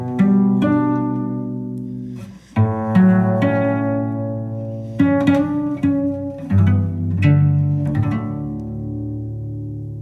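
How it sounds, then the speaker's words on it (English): Plucked string notes ring out clearly, each sharp attack decaying slowly, with about a dozen plucks in an uneven melodic rhythm close to the microphone and no voices. "So you could pluck the string and make it sound like this."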